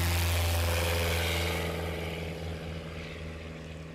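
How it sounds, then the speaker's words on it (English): A STOL propeller airplane drones loudly and steadily nearby with a deep engine hum during takeoff and landing practice at a short-takeoff competition, slowly fading a little as it moves away. "Lee Boyd dropping those flaps like they're hot."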